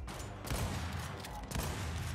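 Gunfire in Gears 5 multiplayer: dense rapid automatic shots with two heavier bursts, a loud, sustained barrage with no talk.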